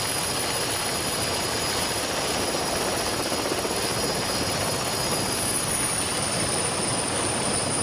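Loud, steady rotor and turbine roar from a helicopter flying in the mountains of Sulawesi during the 1988 Camel Trophy, broadband and unbroken, with no voices.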